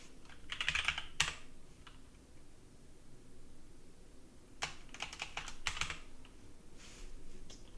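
Terminal commands are typed on a computer keyboard in short, clustered bursts of crisp keystrokes separated by pauses, close and fairly quiet against a faint hiss, with no talking.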